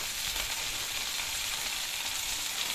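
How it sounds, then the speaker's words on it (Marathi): Potatoes sautéing in a pan for a Marathi-style dry potato dish, a steady, close crackling sizzle of frying with faint stirring, continuous and even throughout, with no voices. "सगळं व्यवस्थित परतून घेऊया आपण बटाटे"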